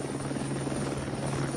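A chartered helicopter flies steadily with a continuous rotor thrum and engine drone, moderately loud and unbroken, with no voices.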